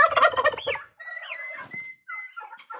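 Two-month-old turkey poults calling near the listener, a mix of gobbling, clucking and rising whistled peeps in short bursts separated by brief pauses.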